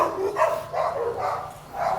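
Dogs bark outside in Paraguay, a run of repeated barks and yelps at moderate distance, continuing over a broad background noise.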